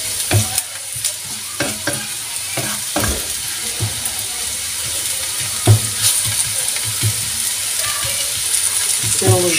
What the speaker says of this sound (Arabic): ملي كتكون غليظه وكتكون تحمري فيها البصله ما كتحركش المقله